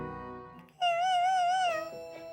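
A cat gives a single drawn-out meow, clear and fairly close, rising and wavering in pitch before trailing off, with quiet surroundings before and after.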